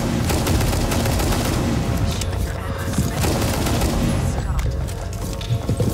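Rapid DMR rifle fire in a first-person shooter video game, a dense, loud barrage of sharp repeated shots with booming impacts. It keeps up nearly nonstop across the whole stretch.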